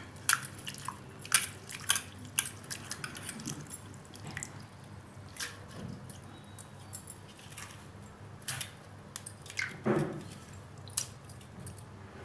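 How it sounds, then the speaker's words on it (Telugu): Fresh fenugreek leaves swished and lifted in a bowl of water in a kitchen, with intermittent splashes, drips and wet squishing sounds coming in uneven bursts, close and moderately loud. "అందుకని ఇలా 3 సార్లుగా కడగాలి మనం"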